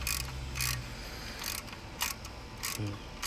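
A valve spring compressor tool being cranked tight on an engine cylinder head, giving a series of close, sharp ratcheting clicks in short bursts with brief pauses between.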